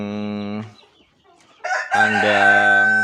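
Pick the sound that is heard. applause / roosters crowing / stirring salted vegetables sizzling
roosters crowing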